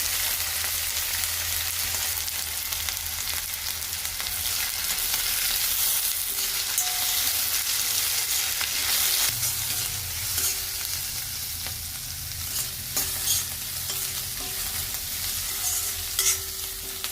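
Potato, carrot and curry leaves fry hard in a pan over high flame for noodles. A steady, close sizzle is broken by occasional stirring scrapes, with no one talking.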